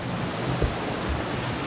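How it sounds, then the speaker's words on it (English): Steady broadband rush of water at the top of the first waterfall at Crabtree Falls, a continuous even roar with faint low thumps, no voices. "we're at the top of the first waterfall."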